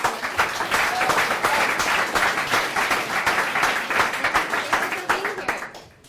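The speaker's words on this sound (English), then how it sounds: "Let's give a big round of applause for Andrea and for Mike for joining us tonig" Audience applause at a startup pitch event in London, a dense steady clapping from a crowd that holds for about five seconds before tapering off at the end.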